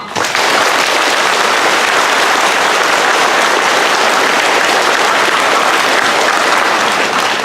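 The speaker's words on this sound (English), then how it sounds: "So let's give them a big applause to them all" A forum audience gives loud, sustained applause for school board candidates, a dense, even roar of clapping hands filling the room for several seconds with no voices over it.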